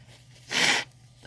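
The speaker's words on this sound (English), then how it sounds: "blowing my nose" A person blowing their nose once, a short burst of about a third of a second rising above quiet room background, close and fairly loud.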